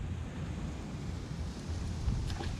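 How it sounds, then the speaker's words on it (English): Gusts of wind, around 10 to 12 miles per hour, buffet the microphone beside a creek, a steady low rumbling roar that swells slightly near the end, with no one speaking. "Keep getting these like 10 to 12 mile per hour gusts that just blow the line."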